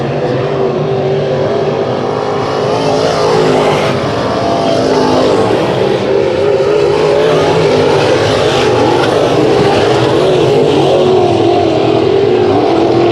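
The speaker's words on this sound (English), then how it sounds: "The car is left running on the track halfway through this heat race number 1 for the B-Mods." B-Mod race cars roar around a dirt track during a heat race, a loud, continuous blur of engine noise that rises and falls slightly as the cars pass without pause.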